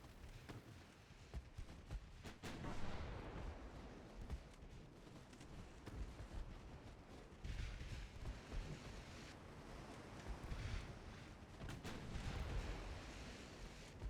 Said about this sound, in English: We're going to let the main guns keep firing HE.